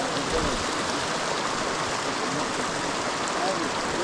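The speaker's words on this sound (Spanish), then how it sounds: "Vean cómo está cayendo el agua, se escucha bien bonito." Steady, dense rush of water falling into a hot river pool shaped like a cenote in the Bosque de la Primavera, Mexico, a constant close splashing roar with no pauses.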